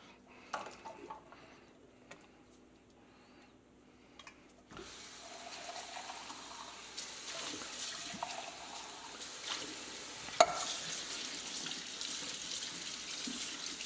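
Tap water runs over canned beans in a plastic strainer in a kitchen sink, a steady splashing rush that starts partway through after quieter handling clatter, with a brief knock near the end.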